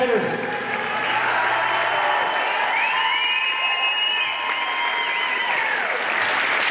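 Sustained applause and cheering from an MMA crowd for the two main event fighters, a dense wash of clapping with scattered shouts and whistles, steady and loud throughout, with an announcer's voice faintly over it at first.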